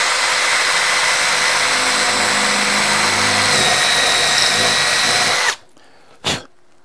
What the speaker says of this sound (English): we're going to cut and drill 2 holes in this thing